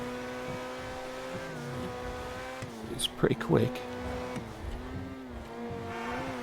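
A supercar engine in GTA 5 drones steadily at high speed with a sustained harmonic hum, briefly swelling with a rougher burst midway, while someone talks over it.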